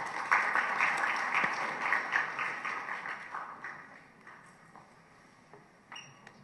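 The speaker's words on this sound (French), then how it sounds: "je vous prie d'applaudir Maître Udicourt" An audience claps at a formal official ceremony, the applause full at first, then thinning and fading over a few seconds before a last scattered clap.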